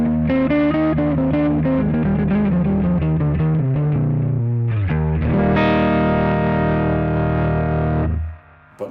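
Electric guitar driven through Soundtoys Decapitator saturation and EchoBoy analog-style delay, played as a loud distorted melodic phrase with repeating echoes and chorus-like shimmer, then a sustained chord that cuts off abruptly near the end.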